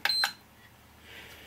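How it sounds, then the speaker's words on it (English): Two short, sharp electronic beeps in quick succession from a Turnigy LiPo battery charger's keypad, close and clear, followed by quiet room hiss. "whether the key beeps every time, and at the end of the charge cycle, does it beep for you?"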